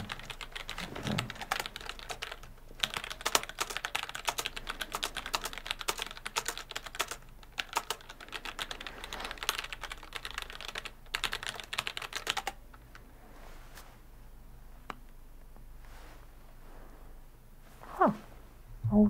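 Rapid, continuous typing on a computer keyboard, close and crisp, dense key clatter for most of the stretch before thinning into a few sparse taps and small clicks near the end.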